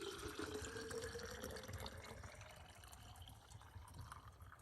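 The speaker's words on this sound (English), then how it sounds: "I'm gonna pour it into my water bottle." Boiling water poured into a water bottle at a survival-style camp meal, a steady close gurgling stream whose pitch climbs as the bottle fills, with no talking.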